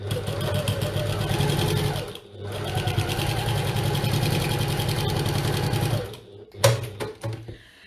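A sewing machine stitches a seam on a zipped internal divider pocket of a bag, running in a fast steady whirring rhythm for about six seconds, then pausing before a short burst of stitching and handling noise.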